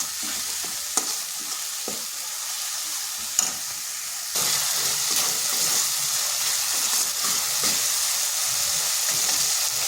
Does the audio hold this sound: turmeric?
yes